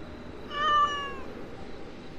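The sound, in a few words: cat Kotaro meowing in Identity V video game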